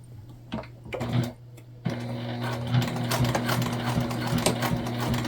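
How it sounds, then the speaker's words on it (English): A sewing machine runs steadily, stitching a tote bag panel at a wide seam allowance, with a brief start and stop before settling into a continuous close whirring hum with faint ticking. "We are gonna sew this on at a pretty good seam allowance here."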